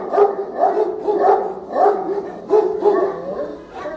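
A Bully breed dog barks loudly and close, about seven deep repeated barks in a steady rhythm with brief gaps, no talk over them.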